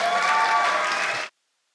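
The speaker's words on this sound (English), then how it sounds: "Can we give them a round of applause," An audience gives a round of applause at an anniversary celebration, a dense, loud wash of clapping that holds steady for just over a second and then cuts off abruptly into silence.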